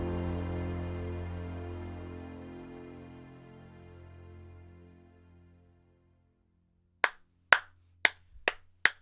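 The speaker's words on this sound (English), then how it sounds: "That really deserves applause." A fading musical tone dies away into silence, followed by five sharp, evenly spaced hand claps, close and distinct.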